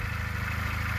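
A Euromotors 250 Retro sidecar motorcycle, still being run in, holds about 5000 rpm at roughly 80 km/h. Its engine gives a steady, buzzing drone mixed with loud wind rush.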